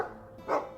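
A single short dog bark sounds in the Dragon Age II video game, faint and brief, with no talk over it.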